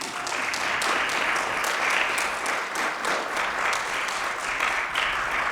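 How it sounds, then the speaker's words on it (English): A room full of people at a community senior center panel clapping, a dense even applause held at steady loudness from start to finish with no voices standing out. "Let's have a nice round of applause."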